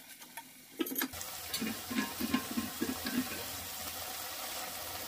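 Kinema, a fermented soybean, is stirred with tomatoes frying in a pan: soft scraping and clicking stirring strokes come in a loose rhythm over a faint, steady sizzle, fairly quiet and close.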